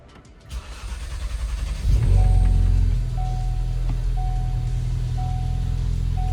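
A Ford Focus RS engine cranks and catches about two seconds in, flaring to a loud rev before settling into a steady, rumbling idle, with a faint repeating electronic chime over it.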